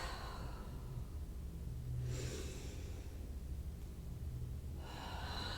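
Slow, deep breaths drawn in and let out during a yoga stretching class, with two soft, airy breath sounds about three seconds apart over a steady low background hum.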